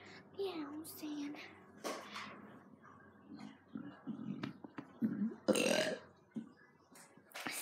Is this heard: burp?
yes